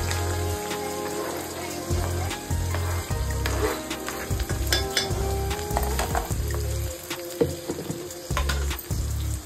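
Chopped green chillies and onions fry in hot oil in a pan for a Maharashtrian zunka, a loud steady sizzle with occasional stirring scrapes and clinks of utensil against pan.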